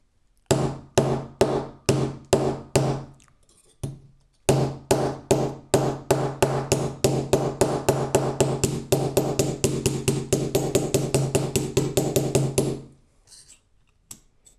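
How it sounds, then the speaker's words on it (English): Sharp metallic hammer strikes on a metal jewelry blank, flattened with the flat side of the hammer: a few spaced blows then a long fast steady run of tapping, close and loud, ending in quiet. "I'm going to flatten the back of the blank with the flat side of the hammer."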